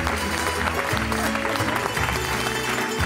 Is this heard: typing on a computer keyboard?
no